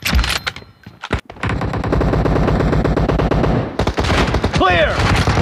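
Rapid automatic gunfire in the mobile battle royale game PUBG Mobile, loud close bursts of machine-gun shots with brief gaps, ending in sharp ricochet-like whines and more shots.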